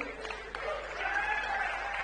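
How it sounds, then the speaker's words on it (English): Audience applause at an event in the Frans Otten Stadion, Amsterdam, a steady wash of clapping and crowd noise that holds and swells slightly through the whole stretch. "Round of applause for Frank, everybody."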